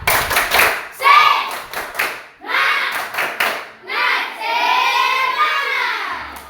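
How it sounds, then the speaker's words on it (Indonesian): A school class does the tepuk semangat clapping chant, with loud bursts of group clapping in short rhythmic runs and children's voices chanting loudly in unison between and over the claps. "Kita tepuk semangat dulu, bisa? Bisa. Oke, tepuk semangat."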